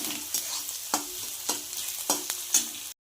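Reddened onion with a pinch of turmeric frying in a pan, a continuous sizzle punctuated by evenly spaced stirring scrapes about every half second, ending abruptly.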